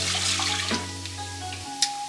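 Two cups of water pour steadily into a pot of short grain rice, a continuous splashing wash with a faint tonal ring from the pot, close up and without talk.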